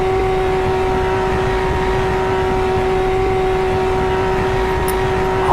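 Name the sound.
car engine running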